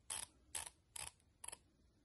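Rotating bezel of a Marlin diver watch being turned by hand, four quick, close ratcheting clicks in a short, evenly spaced series, faint and isolated with no talking.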